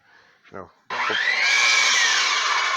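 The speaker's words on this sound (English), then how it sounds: "We just take the sander across it, around it, and we come down the stairs" Electric sander on wooden stair edges for an exterior staircase starts abruptly after a short bit of speech, then runs as a steady, loud whirring grind.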